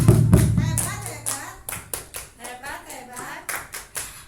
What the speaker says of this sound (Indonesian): tepuk tangan untuk Bu Is. Tepuk hebat.